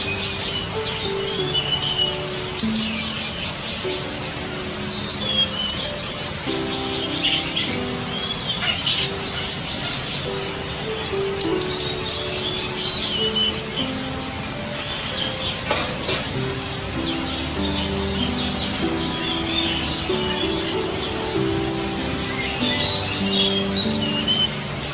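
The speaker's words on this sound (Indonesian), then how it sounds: "Kicaunya itu udah beda sama yang ketika biasa kita lihat gitu." An albino bird calls repeatedly near a waterfall, with chirps and squawky notes scattered over a constant background rush of water.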